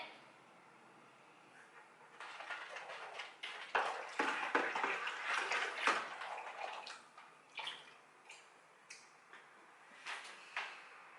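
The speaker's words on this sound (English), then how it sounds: "Just give it a quick stir and then spin it." Dissolved sugar liquid stirred in a bucket while making strawberry and watermelon wine, quiet at first, then a burst of sloshing, clunking strokes and splashes, easing into scattered knocks.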